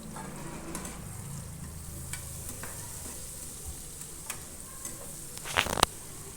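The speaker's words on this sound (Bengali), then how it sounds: "পেঁয়াজ কুচিটা ব্রাউন কালার অবধি অপেক্ষা করব ভালোভাবে ভেজে নেব" Chopped onions with salt frying in a pan toward brown, a steady low sizzle with occasional stirring clicks and a brief louder scrape of the spoon near the end; no talking.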